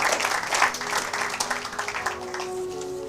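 A church congregation applauds together, a dense wash of clapping that is strongest at the start and then thins and fades, with a faint voice mixed in near the end.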